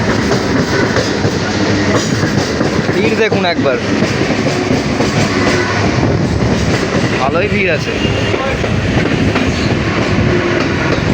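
A Habra–Sealdah local commuter train on the Barasat line rumbles along loudly with rhythmic clickety-clack of wheels on rails, while a person talks nearby over the noise.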